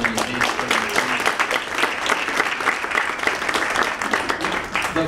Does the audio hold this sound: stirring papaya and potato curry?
no